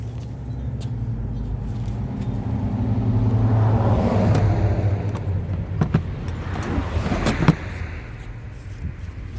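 Traffic on a busy road rushes past nearby, a steady broad engine-and-tire roar that swells toward the middle and then eases, with a few sharper knocks and clatters mixed in near the end.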